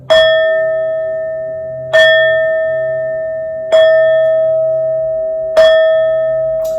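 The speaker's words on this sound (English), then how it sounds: "These next 4 bell sounds are to align us and to bless this reading." Four clear bell strikes, evenly spaced about two seconds apart, each ringing out and slowly decaying into the next; no talking.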